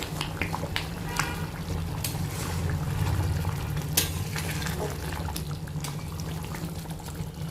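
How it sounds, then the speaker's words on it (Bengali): Fresh cream being folded through a simmering butter chicken gravy, a spoon scraping and stirring the thick sauce from the bottom up with soft bubbling and sizzle, steady and close with a few sharp scrapes. "ভালো করে ক্রিমটা নিচ থেকে উপরে মিশিয়ে নেবো"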